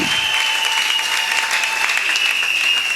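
A congregation applauding at a wedding service, a steady, even wash of clapping from many hands filling the room without pause, with a faint high tone running underneath.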